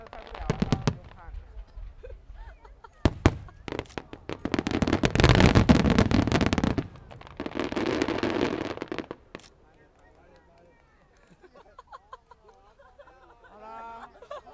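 A fireworks show at Mazu temple in Luermen booms and crackles in loud bursts, with one long dense barrage midway, while spectators chatter nearby between volleys.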